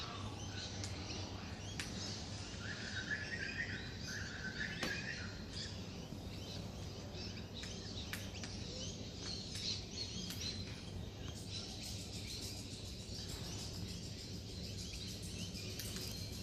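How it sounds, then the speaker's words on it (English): Two birds pecking at leftover seed in the late morning give faint, scattered chirps against a steady outdoor background hum, with no one talking. "All the other birds have been this morning and gone, and these two have just come up and having the leftover seed."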